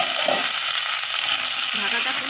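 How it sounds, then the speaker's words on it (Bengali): Cauliflower fries in mustard oil in a wok, giving a continuous close hiss and crackle, with faint clattering as it is stirred. "ঢাকাটা খুলে ভালোভাবে নেড়ে দিচ্ছি। এই যে দেখতেই পাচ্ছ তোমরা, লাল লাল করে ভাজা হচ্ছে।"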